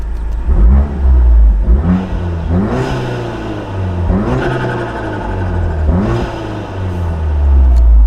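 A Volkswagen Mk7 Golf R's aftermarket exhaust revs loudly and close by in repeated surging blips, each rise in pitch falling back to a deep idle between pulses, with no voices present.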